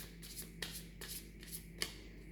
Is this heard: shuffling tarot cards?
yes